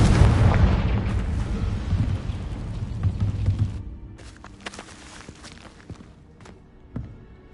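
The Confringo blasting spell goes off in a video game as a loud, deep rumbling blast. It fades over a few seconds into quieter scattered taps and shuffles, with one more soft thump near the end.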